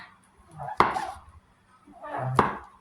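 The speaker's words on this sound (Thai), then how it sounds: "เราก็จะหั่นเห็ดนะคะ" Two separate knife chops through mushrooms on a cutting board in a home kitchen, each a sharp close strike, with soft speech around them.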